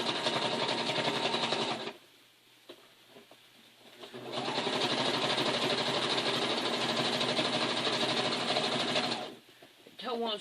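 A sewing machine stitching a log cabin quilt runs in two long, steady whirring bursts separated by a pause with light handling noise, then briefly starts again at the end.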